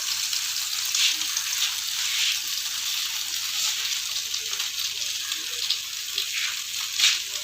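French toast frying in a pan over a medium-low flame, giving a steady, moderately loud sizzle with soft crackling swells throughout and no talking.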